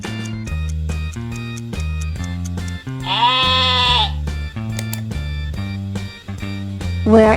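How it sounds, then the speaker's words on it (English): A sheep bleats in a long wavering cry partway through, standing out above a bouncy children's music backing that plays throughout with regular beats. "Where is the sheep?"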